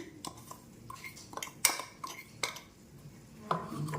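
Spices, turmeric and a ground chilli, garlic and salt paste are mixed into bitter gourd pickle in a mixing bowl, giving scattered light clinks and scrapes of a spoon, close but soft, with no voices.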